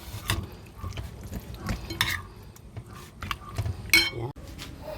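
Chicken and sausage tossed with tomato paste in a bowl, giving repeated close, wet stirring and clinking sounds in irregular bursts, with a sharp knock near the end.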